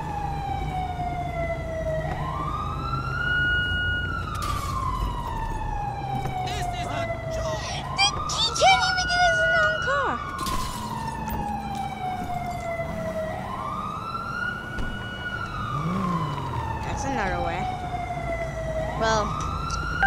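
Emergency vehicle siren in the video game GTA 5 with the LSPDFR mod, wailing in repeated rising and falling sweeps over steady engine rumble, loud and continuous throughout.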